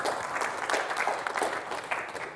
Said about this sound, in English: Give Bob a big round of applause